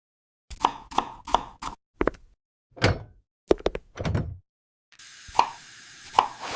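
Vegetables are chopped on a board: a quick run of sharp knife thuds, then a few slower, separated chops, followed by a brief hissing wash of noise.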